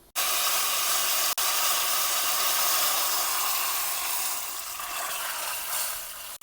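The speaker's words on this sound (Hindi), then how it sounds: "अब महाराज जी थोड़ा इसमें छौंका लगा रहे हैं।" Loud, steady sizzling hiss of tempering spices hitting hot oil for cooked dal, nearly constant for several seconds with a brief cut partway through; no talking.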